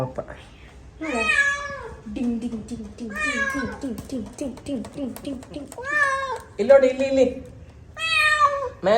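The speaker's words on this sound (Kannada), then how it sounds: "ಬೆಕ್ಕಿನ ಮರಿ ತಪ್ಸ್ಕೊಂಡು ಓಡ್ ಬಂದು ಟೆರೆಸ್ ಮೇಲೆ ಕುತ್ಕೊಂಡ್ಬಿಟ್ಟಿದೆ" A kitten on a terrace meows repeatedly in high, thin cries, with a person speaking softly in between and a soft rhythmic patter underneath.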